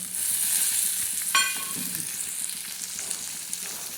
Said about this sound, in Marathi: हा कांदा बी चांगला लालसर होऊन द्यायचा